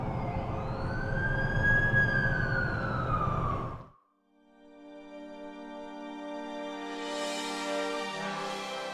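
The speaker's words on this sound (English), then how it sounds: "That's the ambulance I called." Ambulance siren in The Amazing Spider-Man 2 wails loudly in a rising and falling sweep for about four seconds, cuts off, then gives way to a sustained tonal hum with a brighter swell near the end.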